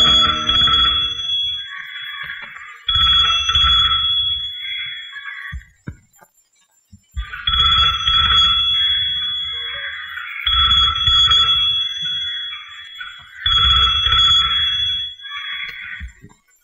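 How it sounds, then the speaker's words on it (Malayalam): A telephone ringback tone heard while placing a call, sounding as repeated double-burst rings with short pauses between them, steady and clear with no one talking. "ഞാൻ ഒന്നുകൂടി ഫോൺ ചെയ്ത് നോക്കാം."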